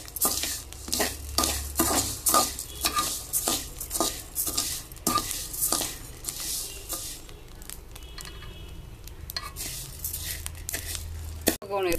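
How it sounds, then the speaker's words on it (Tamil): Black kavuni rice is dry-roasted in a pan, stirred with quick rhythmic strokes that scrape and rattle the grains against the metal. The sound is close and busy, repeating steadily and easing slightly toward the end, with no talking. "அடுத்தது கருப்பு கவுனி அரிசியும் போட்டு வறுக்கணும்"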